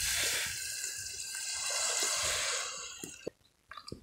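Water is poured from glasses into a cooking pot of biryani masala outdoors in a jungle, a loud steady splashing gush that tapers off, followed by a few drips and light clinks.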